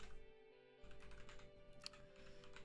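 Soft, quiet clicking of a computer keyboard while coding, a brief pause and then a continuous run of light keystrokes over a steady low electrical hum, no voices.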